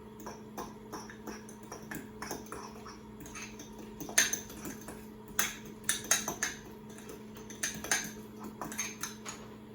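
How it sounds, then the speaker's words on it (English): Deviled egg filling with spicy brown mustard and mayo being mixed in a bowl: a utensil clinks and scrapes against the dish in quiet, irregular taps up close, with no talking. "And then we mix it up."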